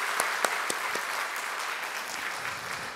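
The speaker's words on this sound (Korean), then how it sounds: "박수 한번 격려해 주십시오" Congregation applause during a Sunday morning church service, a steady wash of many hands clapping with a few sharp, distinct claps near the start, continuing evenly without talk.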